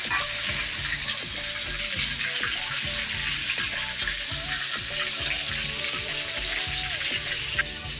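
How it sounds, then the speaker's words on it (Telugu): Tomatoes frying in oil for a country chicken curry give a dense, continuous sizzle at close range, steady and loud throughout, with faint low tones running underneath. "టమోటాలు బాగా మెత్తగా ఫ్రై అయ్యేదాకా ఫ్రై చేసుకున్నాము టమోటాలు మొత్తం బాగా మగ్గిపోవాలి ఆయిల్లోనే"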